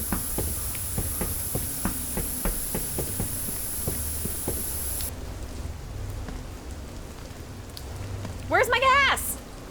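Rain in a horror video game at Ironbark Lookout, a steady hiss with pattering drops and faint low rumble, ending abruptly partway through, followed by a short rising whoosh-like effect near the end.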